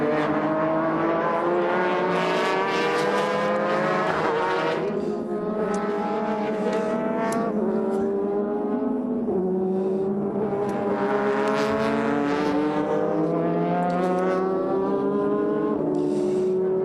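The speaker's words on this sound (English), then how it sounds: "quickly moved up into second once Akira Aida started having problems in the number 6 Mobile 1 Lexus car" Race cars in a 2006 Super GT race at Motegi roar past continuously, engines rising and falling in pitch as they accelerate and shift, loud and close throughout.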